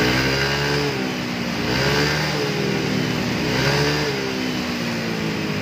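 Yamaha NMAX scooter with a racing exhaust, revved steadily: a loud, continuous, smooth mid-pitched engine drone that swells and eases slightly a few times, heard close and alone.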